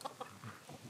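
Big gamefowl hens give a few soft, short clucks close by, quiet and brief against a faint background, with no talking.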